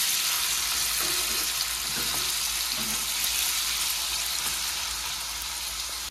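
Diced potatoes frying in hot oil seasoned with cumin seeds and dried red chilli, giving a steady, dense sizzle that holds evenly throughout with a few faint utensil knocks beneath.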